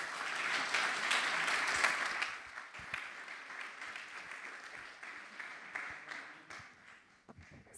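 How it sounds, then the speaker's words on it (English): Applause from a startup expo audience at a summit in Munich, a fairly distant, soft wash of clapping that swells early and then tapers off with a few scattered claps. "Show us some round of applause"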